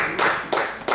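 Three short bursts of pretend applause for a mentalist's card trick, each a brief close clap flurry with quiet gaps between, no talking over them.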